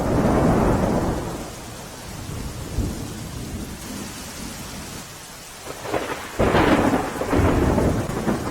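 Heavy monsoon rain pours down in South Gujarat, a dense continuous roar punctuated by deep rolling thunder that swells and rumbles loudly toward the end.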